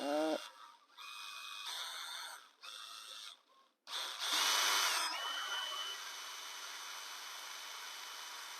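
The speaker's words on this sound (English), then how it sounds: "Let's go ahead and drill that." Power drill boring a hole through a ski boot with a 1/16 inch bit, loud whining bursts that start and stop several times, then one long sustained run that winds down into a quieter hum.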